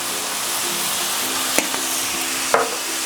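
Cumin stirred into a sizzling pan of chilli con carne mix, giving a steady, close frying hiss with a couple of sharp spoon scrapes and taps.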